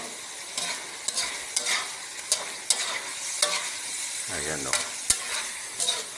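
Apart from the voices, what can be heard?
pork adobo frying and being stirred in oil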